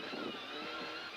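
From onboard a Mitsubishi rally car in the 1996 Dakar Rally, the engine gives a steady, muffled droning rumble with broadband road noise, continuous and moderately loud throughout the short moment.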